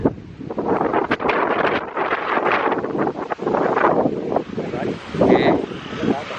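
Strong wind buffets an exposed rock outcrop near Thenkasi, roaring in steady gusts close to the microphone, with voices talking intermittently beneath the rushing noise.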